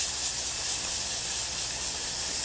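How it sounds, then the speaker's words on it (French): Sliced red pepper cooks in a little butter in a saucepan, giving a steady, even sizzling hiss that stays close and unbroken with no talking. "The sliced red pepper is cooked in a little butter."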